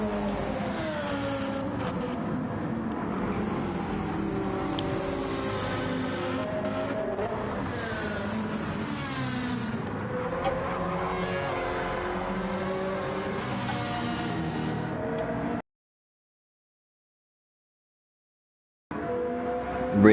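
GT1 race cars in a racing game at St Croix roar continuously with engine pitch climbing and falling through braking and acceleration, then the sound cuts to silence for a few seconds before briefly returning.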